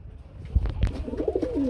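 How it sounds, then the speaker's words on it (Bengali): A Kashmiri pigeon cooing close by in soft, throaty low notes, heard alone. "কাশ্মীরি এত সুন্দর ডাকে"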